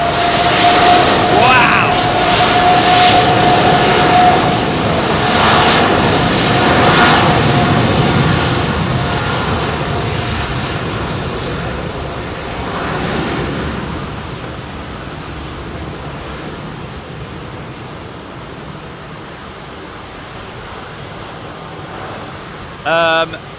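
A jet airliner makes a rolling takeoff at London Heathrow, loud engine roar close at first and then slowly fading into the distance, with a short exclamation from a voice near the start.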